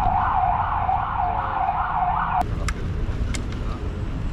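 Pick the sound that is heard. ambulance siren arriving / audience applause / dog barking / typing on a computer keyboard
ambulance siren arriving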